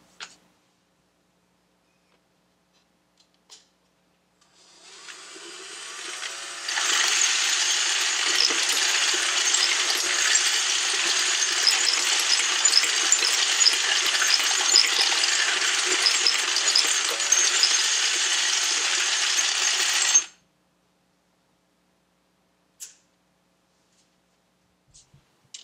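A Dillon XL750 progressive reloading press runs 10 mm cases with a case feeder, a steady, dense stream of metallic clatter and clicking for about fourteen seconds, fairly loud and alone, with a few isolated clicks before and after.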